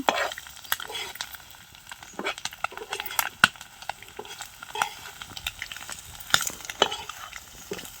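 Chapati pieces stirred into an egg roast in a pan, with repeated close scraping and clinking of a spoon against metal over a soft sizzle, no talking.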